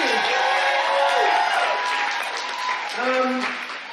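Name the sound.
audience applauding a keynote speaker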